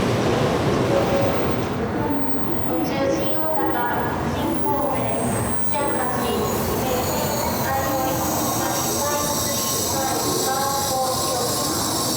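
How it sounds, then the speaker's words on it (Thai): Shinkansen bullet train at Kyoto Station, a loud steady rumble of rail wheels with a high metallic hiss rising as the train runs along the platform, continuous for the whole stretch. "ตอนนี้อยู่ที่สถานีเกียวโตนะครับกำลังรอชินคันเซ็น"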